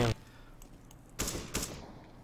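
Sharp gunshot bursts from a Counter-Strike match, one loud crack at the start followed by two more shots about a second later, faint and brief over quiet game ambience.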